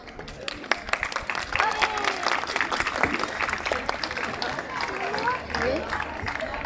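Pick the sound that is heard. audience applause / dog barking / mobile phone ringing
audience applause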